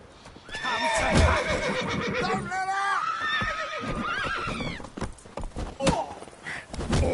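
Horse in The Witcher 3 on PS4 neighing loudly with a long whinny, mixed with game voices and hoof clip-clop, fairly close and dominant through the first half.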